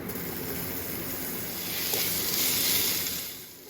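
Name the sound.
bacon lardons frying in olive oil in a cast-iron pot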